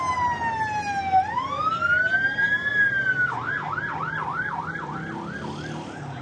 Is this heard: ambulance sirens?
yes